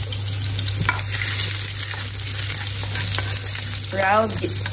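Garlic and bitter gourd (ampalaya) sautéing in a pan, a steady close sizzle with occasional stirring scrapes and a brief clatter near the end, no talking.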